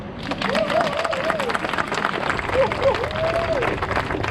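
A crowd applauds at an outdoor street-naming ceremony, steady clapping and murmuring voices mixed together, with a voice rising over the noise partway through.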